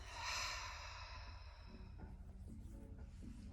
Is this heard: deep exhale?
yes